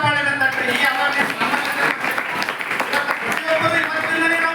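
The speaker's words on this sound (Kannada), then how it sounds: "ಅವ್ರಿಗೊಂದು ಜೋರಾದ ಚಪ್ಪಾಳೆ ತಟ್ಟರಿ" An audience breaks into steady, dense applause at an environmental awareness talk, loud clapping running throughout with a voice speaking over it.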